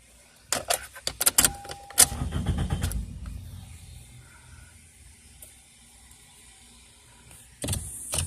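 A 2002 Toyota Corolla LE cranking without starting: a loud burst of starter whirring and clicks that fades into a fading rumble, then a short click and whir near the end.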